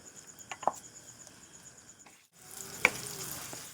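Boiled potatoes going into a pan of spices and oil, a faint sizzle with a couple of sharp utensil clicks, then a louder burst of frying after the potatoes are added.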